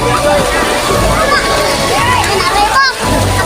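Spring water overflows into a swimming pool, a steady close splashing and sloshing stream running throughout while people talk over it.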